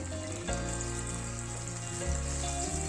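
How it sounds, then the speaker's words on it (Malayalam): Soya chunks frying in a pan, a steady close sizzle held throughout, with a tonal hum layered over it and no talking. "സോയ ചങ്ക്സ് ഒന്ന് ഫ്രൈ ചെയ്തെടുക്കുന്നുണ്ട്."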